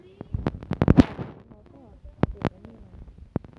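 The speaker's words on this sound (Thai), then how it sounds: "ก็ระเบิด" Minecraft explosions go off as a cluster of sharp bangs and crackles, followed by a few scattered single pops, with a player talking over them.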